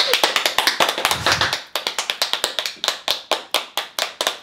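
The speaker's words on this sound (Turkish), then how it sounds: "Alkış." Sharp claps fill a studio as a Turkish talk show opens, a handful of hands beating in a quick, uneven run that starts dense, thins out, then picks back up, close and fairly loud with nobody speaking.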